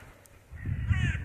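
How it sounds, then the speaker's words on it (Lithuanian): A single crow caws harshly in the distance, a brief rasping call over quiet outdoor background at an old Soviet-era stadium. "Girdi varną?"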